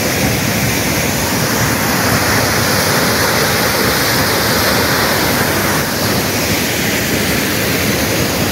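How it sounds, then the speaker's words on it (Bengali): A waterfall roars in a loud, constant, broadband rush of falling water, close by and unbroken, with no voices heard. "সেইখানে এত সুন্দর একটা ফলস দেখছি।"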